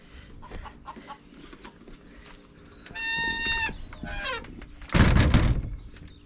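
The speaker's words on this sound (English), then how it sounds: "Chickens are laying their eggs this morning." Chickens on a farm in the early morning: several close, loud clucks and squawks in irregular bursts, including a rising cackle and a harsher outburst near the end, with no talking.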